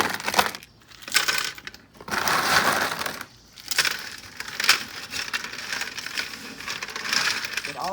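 Ice and salt are mixed by hand with cucumbers for pickles, making repeated bursts of loud crunching and rattling. Short pauses fall between the handfuls, and no one speaks.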